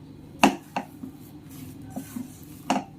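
A spoon scraping and clinking against a pot while potato stuffing with finely chopped coriander is mixed, a few sharp clanks spaced irregularly among softer stirring scrapes, close up with no talking.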